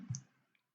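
A single sharp computer mouse click, close and quiet, followed by a faint second tick, in an otherwise silent room.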